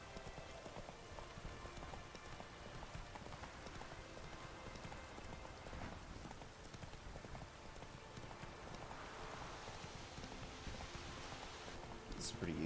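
Steady rain pours down in The Witcher game, a dense, even hiss with pattering drops throughout, alongside a horse's clip-clopping hooves and a voice talking now and then.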